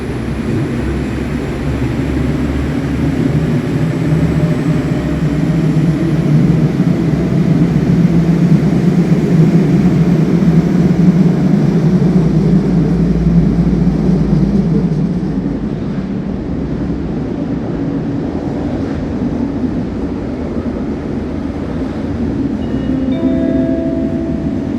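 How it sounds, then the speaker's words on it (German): An InterCity train pulls in at Cologne Central Station, a deep rumbling roll that swells and then eases under the wide hum of a large station hall, heard from a platform close by. "Platform 4, now arriving IC."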